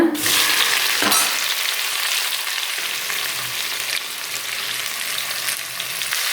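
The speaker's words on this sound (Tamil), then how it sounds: "இது வதங்கினதும் வெங்காயம் போட்டுக்கோங்க." Onions fry in hot oil with fennel seeds for vegetable biryani, giving a loud, constant hissing sizzle close up with occasional stirring scrapes and no talking.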